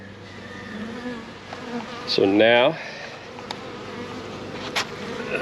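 Honey bees from a package being installed in a hive buzz close by, a steady drone with a sharp louder burst midway, someone speaking briefly.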